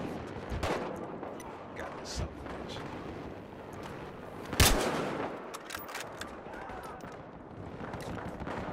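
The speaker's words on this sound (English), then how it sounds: "I have no idea where I'm getting shot from" Scattered multiplayer gunfire in Battlefield Hardline, with sporadic shots at varying distances and one loud crack standing out, beneath a voice.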